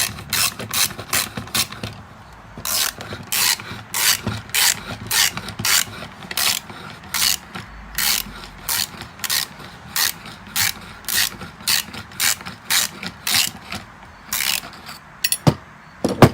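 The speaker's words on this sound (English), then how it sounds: "I probably really don't need the ratchet for this" A ratchet wrench clicks in quick, rhythmic bursts of close, crisp ratcheting strokes while bolts come off a 1974 Ford rototiller, with short pauses between runs and no talking.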